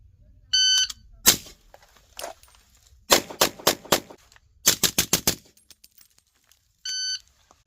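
Pistol shots are fired at a target during a rifle-to-pistol transition drill, a few sharp reports and then a quick string of about five, framed by short electronic timer beeps at the start and end.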